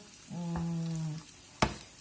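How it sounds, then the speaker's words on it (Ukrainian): Meat for pilaf hits a hot frying pan all at once, giving a short burst of sizzling with a sustained squealing tone, then a sharp spatter near the end. "І тепер я кидаю все м'ясо, все разом до цієї е, сковорідки"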